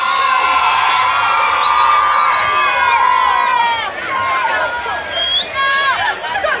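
A large school crowd at a maypole dancing event screams and cheers loudly and steadily, with high children's shouts and whoops rising throughout.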